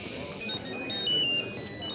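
A mobile phone ringtone plays as a series of high, bright electronic tones, moderately loud against a quiet indoor room.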